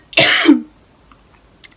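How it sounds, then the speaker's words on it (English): A single short, throaty cough, close and clear, followed by near silence. "always makes me cough"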